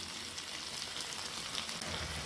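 Carrots and capsicum frying with spices in a pan, giving a steady, moderately loud broadband sizzle that continues without a break for the whole moment, with no voices.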